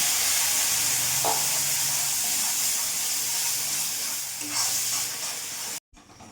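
Bengali spice masala with salt and chilli powder being sautéed in a pan over a low gas flame for aloo potol rasa, a steady close sizzle with faint stirring scrapes, heard alone.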